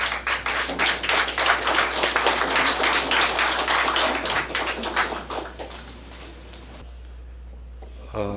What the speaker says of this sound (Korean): 그래서 우리 강철한 대표님 나오실 때 힘찬 박수 한번 부탁드리겠습니다